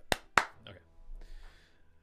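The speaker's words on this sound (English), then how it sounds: "Let me clap, make it easier." Two sharp hand claps close together, loud and close to the microphone, followed by a quieter stretch of faint indoor noise.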